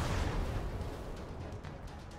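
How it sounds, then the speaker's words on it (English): Cannon fire in the RPG Chained Echoes: a heavy booming blast at the start that rumbles and fades into a low, dying roar with faint crackles. "Look out for their cannons."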